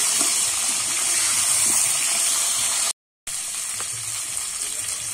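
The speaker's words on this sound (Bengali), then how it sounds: "এবারে শিম, বেগুন, পটল সব সবজিগুলো আমি একসঙ্গে ভেজে নেব" Flat beans, brinjal and pointed gourd frying together in hot oil, a loud continuous hiss and sizzle that cuts out briefly, then resumes slightly quieter.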